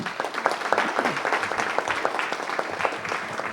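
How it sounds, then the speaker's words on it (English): An audience at a city council meeting applauds for high school students, a brief burst of moderate clapping from a modest crowd in a room. "So everyone, please give them a round of applause"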